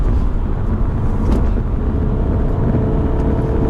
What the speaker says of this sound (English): So you can hear it revving.